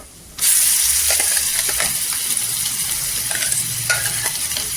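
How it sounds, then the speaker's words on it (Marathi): Ground masala paste drops into hot oil and ghee for an egg curry and erupts into a loud, steady sizzle, with a few scrapes of stirring breaking through the frying hiss. "आपण तेलावर परतून घ्यायचं।"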